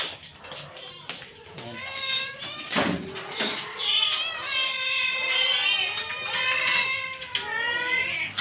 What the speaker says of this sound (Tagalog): Ito yung mga alaga nating pusa.